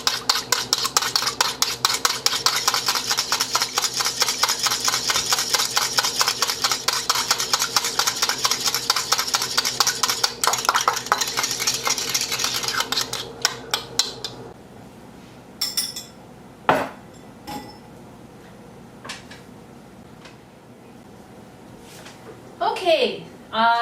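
Utensil scraping and clinking against a bowl while ingredients are mixed in a home kitchen, a steady rhythmic stirring for about fifteen seconds before quieter, scattered knocks and taps.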